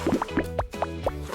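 Water drips and plops in several quick, close splashes as an animal's paws are washed, with small liquid sounds repeating irregularly and no talk over them.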